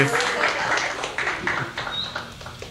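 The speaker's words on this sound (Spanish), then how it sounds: "Otro aplauso, por favor." Audience applause fills a live talk-show setting, a dense, steady wash of clapping hands close and continuous throughout, with a few sharper individual claps poking out.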